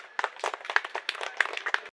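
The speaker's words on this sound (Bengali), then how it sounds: "সবাই হাততালি দাও।" An audience at a school drawing-competition prize-giving claps in a short burst of dense, uneven hand claps lasting about two seconds, fairly close and moderately loud.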